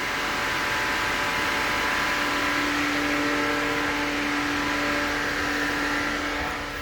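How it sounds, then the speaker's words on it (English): A van's radiator cooling fans keep running at high speed after the engine is shut off, a loud, steady whirring drone with a sustained tonal hum that stays even throughout, with nothing else heard. "So it's kicked on the high-speed fans even though we unplugged it."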